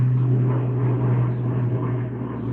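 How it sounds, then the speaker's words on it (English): Transport helicopter flying overhead, a steady droning rotor and engine hum with a strong low tone, continuous and moderately loud with no voices. "That was a transport helicopter."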